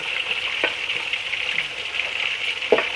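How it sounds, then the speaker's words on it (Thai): Tilapia and catfish fry in hot oil, giving a steady, close sizzle with a few louder pops and crackles breaking through; no one speaks. "ทอดให้กรอบข้างหนึ่งไปก่อนนะคะ ให้เหลืองกรอบค่ะ"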